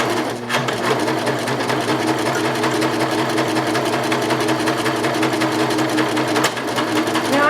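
A serger sewing machine stitches gathers along a fabric seam, its motor running in a steady rapid chatter of needle strokes, loud and close, without a break for several seconds.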